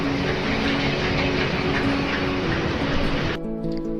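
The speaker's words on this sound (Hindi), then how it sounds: "तो ट्रेन आ गई थी दोस्तों और ट्रेन शोर कर रही थी।" A train rolls past nearby with a loud, steady broadband roar and rumble of wagons, cutting off abruptly near the end to a quieter tonal hum; no voices.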